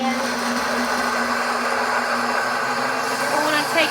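A grinding machine turning peanuts into peanut butter runs with a steady, loud whirring drone close up, unbroken for several seconds.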